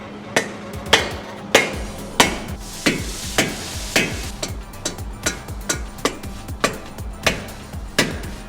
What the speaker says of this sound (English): Then you get a hammer. The bigger hammer, the better it is.